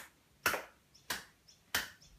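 Three evenly spaced sharp percussive hits, each followed by a softer tick, forming a steady, moderate pulse; close and crisp, with no other sound.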